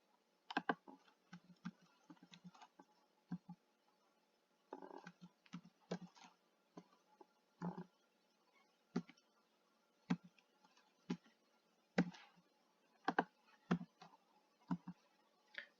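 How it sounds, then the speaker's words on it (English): Scattered keystrokes tap on a computer keyboard in short irregular bursts, close and fairly quiet, with pauses between clusters. "So I've just finished typing in my data,"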